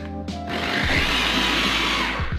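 A blender whirs through a sauce of garlic, white vinegar and sugar, starting with a brief hum that rises into a loud, steady grinding roar, close by and continuing without a break.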